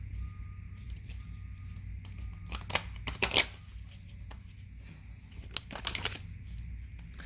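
Cards from an angel oracle deck being shuffled and drawn, several quick papery riffles and a soft flick over a faint background hum, close and fairly quiet.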